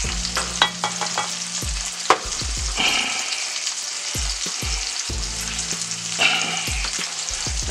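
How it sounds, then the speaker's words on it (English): Teriyaki sauce with ginger is stirred in a pan, giving a sizzling hiss under repeated close, hard clunks and scrapes of a spoon against the pan at an irregular rhythm, loud and near, with no voices. "And we're gonna mix this up in here."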